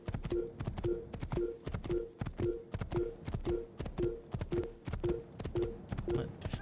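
Horse hooves clip-clopping steadily during a ride in Assassin's Creed, in an even galloping rhythm of paired beats, close and moderately loud with no talk over it.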